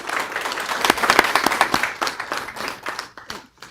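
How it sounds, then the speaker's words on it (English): An audience at a school board meeting applauds, a dense burst of clapping that swells quickly and then tapers off toward the end. "Please join me in giving her a round of applause."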